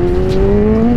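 A motorcycle engine holds steady throttle during a wheelie, a loud, close, sustained drone with its pitch rising slowly.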